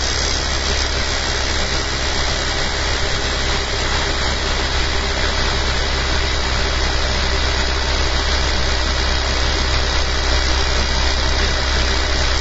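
An engine runs steadily and close by, with a continuous droning hum and a faint squeal on top, holding an even level throughout with no talking.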